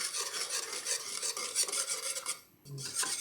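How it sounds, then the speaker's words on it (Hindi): A whisk stirring cream into chocolate custard, a steady scraping, rasping rub against the bowl with a brief pause near the end before it resumes, close and fairly quiet. "इसको मैंने अच्छी तरह से मिक्स करना है इसी तरह। ये फेंटू या विस्क है, इसकी मदद से।"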